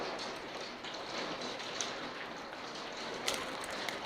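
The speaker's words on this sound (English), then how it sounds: "Yeah, they're pretty big hail balls." Large hailstones fall steadily, a dense continuous patter of hard impacts with a few sharper individual strikes standing out, heard without talk.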